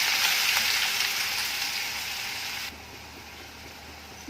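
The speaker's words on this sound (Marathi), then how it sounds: "आणि तेल गरम झालेलं आहे तर चिमूटभर हिंग घालून घ्यायचं आणि कांदा घालून घ्यायचा आहे कांदा असा छान परतून घ्यायचा आहे" Onion with a pinch of asafoetida fries in hot oil, a close, steady sizzle that fades noticeably partway through and then continues quietly, with no voices.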